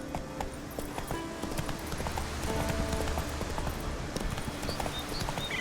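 Roach, a horse in The Witcher 3: Wild Hunt, trots with a steady, even clip-clop of hooves, fairly close, over a continuous bed of ambient game noise.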